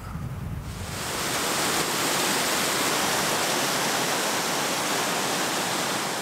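A Norwegian mountain stream running down from a glacier, swollen with heavy flow, starts softer and swells within a second into a loud, dense, continuous roar of rushing water close by. No one speaks.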